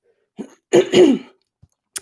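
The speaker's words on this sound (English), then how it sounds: "I'm sorry I keep coughing today." Several short, close coughs and throat-clearing bursts from one person, spaced unevenly across a couple of seconds and heard on their own without talk.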